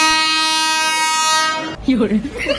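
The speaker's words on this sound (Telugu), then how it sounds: "మీ ట్రైన్ వచ్చింది ఇప్పుడు అమ్మ ట్రైన్ వచ్చింది" A passing train's horn blares loud and sustained for over a second, then cuts off as voices begin talking over the rumble.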